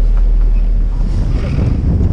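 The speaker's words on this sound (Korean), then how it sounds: "오, 오늘 바람이 세네." Strong wind at sea buffets a small fishing boat off Gunsan, a loud, constant rumbling roar with heavy low-end microphone gusts, no talking.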